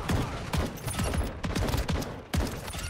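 Rapid bursts of gunfire from a weapon in the mobile shooter Warzone Mobile, loud and close, with several sharp volleys firing in quick succession and brief pauses between them.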